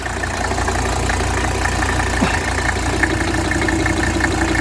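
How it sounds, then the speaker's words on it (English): A 1981 Mercedes 300SD diesel engine idles smoothly and steadily, a continuous low rumble with a faint ticking knock, heard up close with no talking over it. "Look how smooth the engine is."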